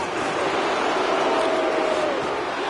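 Home crowd at a hockey game loudly jeering a player, a steady broadband roar of voices with a faint whistle-like tone rising through it, sustained and dense throughout.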